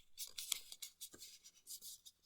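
A sheet of paper being folded and creased into an origami dinosaur, with quiet, close rustles and soft sliding strokes as the crease is pressed flat.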